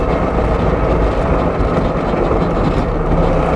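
A Trabant car engine idling roughly, a loud, steady, close-up rumble that continues unbroken without any voices.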